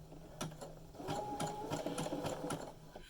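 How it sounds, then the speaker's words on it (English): A sewing machine with dropped feed dogs stitches thread over scrap yarn, a quiet, close, steady run of rapid needle clatter lasting a few seconds. "I'm going to hold on to my thread and my scrap yarn, and I start sewing."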